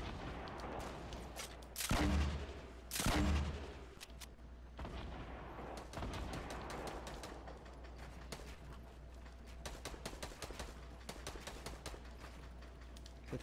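Fortnite Battle Royale match with repeated gunfire and sniper shots: two loud blasts early on, then a steady run of sharp shots and scattered cracks continuing throughout.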